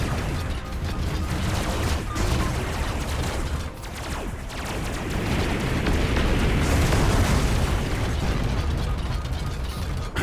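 Robocraft Infinity battle-mode combat with dense, continuous explosions and rapid weapon fire, loud and chaotic throughout with mechanical clatter underneath.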